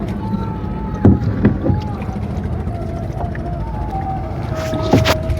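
A rowing boat glides on the Bangshi river at Savar, oars knocking and splashing in a few irregular strokes over steady water and wind noise, with people talking nearby.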